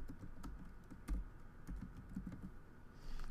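Someone types a folder name on a computer keyboard in a quiet room, a soft run of close key clicks at an uneven pace with no talking.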